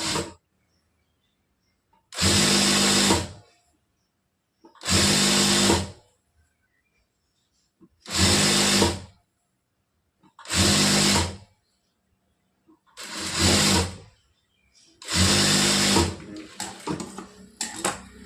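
An electric sewing machine stitching a blouse hem, running in six separate bursts of about a second each with short quiet pauses between, close and steady, with no talking.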